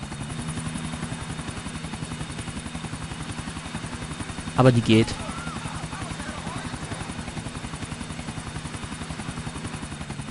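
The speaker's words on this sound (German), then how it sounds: "Erstmal den Helikopter wieder ruhig bekommen hier." Steady rhythmic rotor chop of a helicopter flying in the video game GTA IV runs throughout, with someone talking over it briefly midway.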